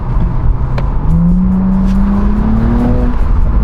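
A BMW 335i engine revs and accelerates up through a steady rising drone, loud and close, with no talk over it.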